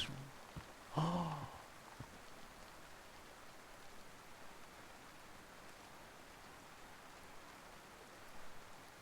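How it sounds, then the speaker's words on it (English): Rain falling in the survival game DayZ, a soft, even wash of drizzle held at low volume, with a brief louder rustle near the start and no talking. "I don't want to go outside in the rain."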